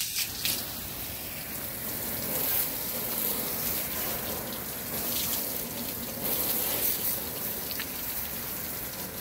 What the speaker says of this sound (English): Turn the hose on here.